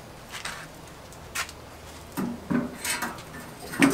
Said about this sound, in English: Just getting the grate on.